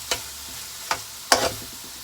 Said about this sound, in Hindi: हमारा कीमा जो है वो इस टाइम अच्छी तरीके से भुन चुका है, उसने ऑयल छोड़ दिया है।